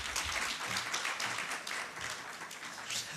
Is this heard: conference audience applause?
yes